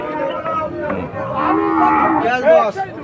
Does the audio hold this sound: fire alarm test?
no